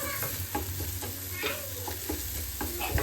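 Mushrooms browning in a frying pan, a steady close sizzle broken by repeated stirring scrapes and taps in an irregular rhythm.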